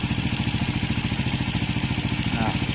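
Raider 150 FI motorcycle engine running close up during a cam chain tensioner reset for a ticking fault, a fast steady mechanical patter with rhythmic clatter, loud and continuous.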